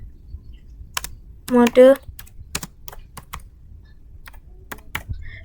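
Network switch commands are typed on a computer keyboard in sparse, crisp key clicks, close and distinct. Someone speaks one short word in the middle.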